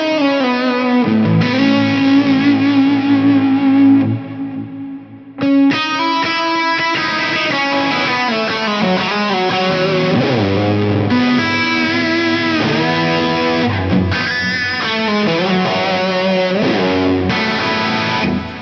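Electric guitar played through a Fractal model of a Mesa Mark IIc+ amp with a plex verb effect, sustained chords and melodic lines ringing out with lush, shimmering reverb, loud and continuous, with a brief drop in level near the start.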